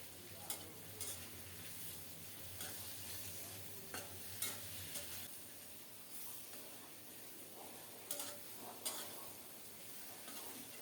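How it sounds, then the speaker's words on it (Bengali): Shrimp coated with turmeric and salt fry quietly in a pan, a soft continuous sizzle broken by occasional sharp clicks and taps of stirring. "এখন ভেজে নিচ্ছি চিংড়ি মাছ"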